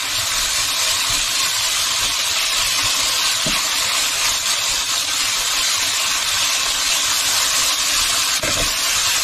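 Whiting and calamari stir fry sizzles loudly in a pan as it starts to brown: a dense, steady hiss throughout, with a couple of brief clicks and no talking.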